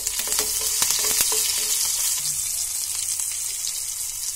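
Dry red and green chillies sizzle loudly in hot oil for a fresh green pea dal, a dense close crackling hiss with a few stirring knocks early on.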